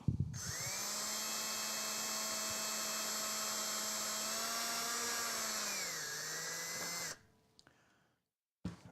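Power drill boring into a wooden piece of a 6' x 5' rug tufting frame, a steady loud whining drone that sags slightly in pitch under load before cutting off, followed by a brief quiet.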